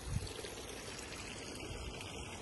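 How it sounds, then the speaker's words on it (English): A lovely running water feature in a house's back garden trickles and splashes steadily, a soft continuous outdoor water sound with no talking. "You've got this useful greenhouse at the bottom of the garden here, and this lovely running water feature."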